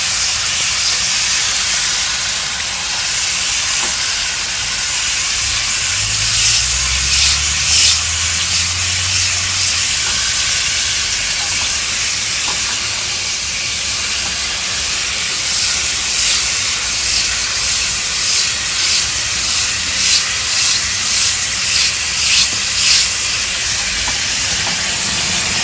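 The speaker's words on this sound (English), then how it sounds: "Spray it down again." Cleaner sprays in a steady, loud hiss onto the outdoor coil of a mini split air conditioner, with short pulsing bursts of spray near the end and no speech.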